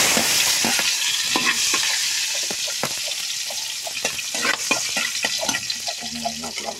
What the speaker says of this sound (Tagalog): Lagay na natin yung bawang.